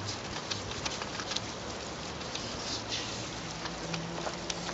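A water-fed pole sprays water onto window frames, giving a steady, close hiss of spray and patter that holds throughout without pause, with scattered faint drips and no voices.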